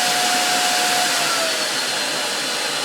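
A Tineco PURE ONE S12 cordless vacuum cleaner runs with a loud, steady, close whine and airy roar that holds constant throughout.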